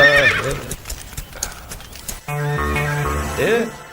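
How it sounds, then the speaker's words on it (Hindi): A horse clip-clops and neighs in a dramatic Hindi film scene, hooves beating rhythmically under a loud whinny, with music and voices mixed in. "घोड़ा तैयार है तो ले आइयो"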